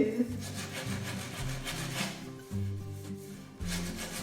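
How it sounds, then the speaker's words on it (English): Hand sanding of a wooden furniture piece along the grain, heard as steady repeated rubbing strokes with a low tonal hum running underneath, fairly close and moderate in level. "So you want to sand with the grain and then continually check and see when it is smooth"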